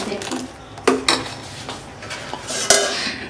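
Spoon scraping and clanking against a pot while thickened milk is stirred for a date-palm jaggery pitha dessert, a few sharp metallic knocks between softer scrapes.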